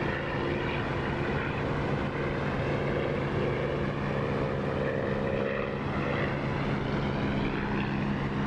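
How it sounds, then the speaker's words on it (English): Propeller aircraft engine in the DCS flight simulator game, a steady droning hum with a throbbing propeller tone, continuous and even in loudness throughout, with no voices over it. "Just listen to the sound of this engine though."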